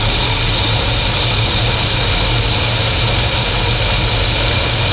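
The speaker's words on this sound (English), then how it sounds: "You'll never get it to idle smooth because it's got quite a high lift cam in it." A car engine with a high-lift cam idles roughly up close, giving a loud, steady low rumble with an uneven, lumpy pulse and no voices over it.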